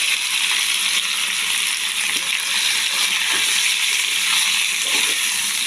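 Potato pieces fry in hot oil with a pinch of turmeric for aloo posto, a dense, continuous sizzle with faint crackles and scrapes, steady and close throughout.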